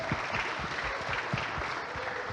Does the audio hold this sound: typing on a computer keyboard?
no